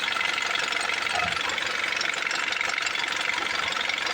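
Isuzu D-Max engine idling after a starter motor repair, a steady even rumble with a fast mechanical clatter, close and unbroken throughout.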